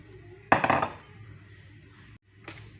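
Fried onion mixture is tipped into a multicooker pot with one short, bright clatter and scrape of utensil against the pot, followed by a faint second knock in a quiet kitchen.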